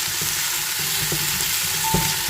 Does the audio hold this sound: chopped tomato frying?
yes